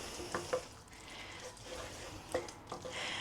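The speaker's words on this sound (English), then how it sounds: "And then give that a mix" Soft, wet stirring of a smoked salmon mixture, a quiet squishing scrape with a couple of brief clicks over a faint background hiss, with no voice.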